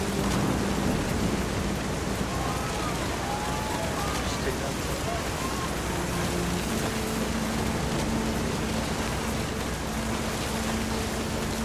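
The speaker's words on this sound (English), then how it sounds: "The thunder sounded much too close and full of angry power." Steady rain with a low rumble of distant thunder in the What Remains of Edith Finch video game, a continuous dense wash of noise holding at an even level throughout, with faint tonal game sounds drifting underneath.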